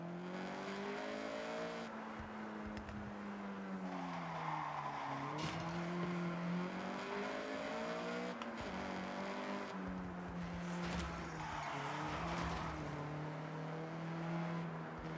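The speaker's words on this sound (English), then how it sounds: "All right, get the CRX up to speed." A Honda CRX in the racing game Forza 6 accelerates hard, its engine note climbing steadily through several gear changes, loud and continuous with no talking over it.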